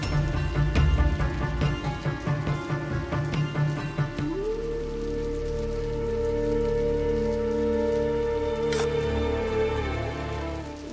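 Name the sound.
heavy rain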